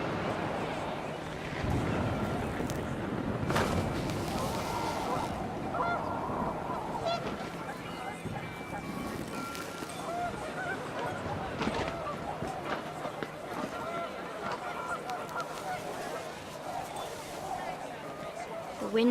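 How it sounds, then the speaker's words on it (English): Panicked geese honk repeatedly in the video game What Remains of Edith Finch, their calls rising above gusting wind and a steady outdoor wash, while a voice talks over the scene. "The wind picked up and panicked geese appeared and quickly went."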